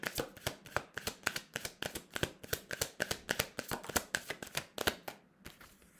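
A deck of cards is shuffled by hand in quick, regular riffling snaps, about three per second, crisp and close, stopping abruptly just before the end.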